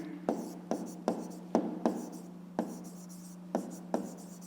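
Pen or pencil writing by hand while working a fifth-grade math exercise, with about ten sharp strokes and taps close by in an irregular rhythm over a steady low hum, no talking.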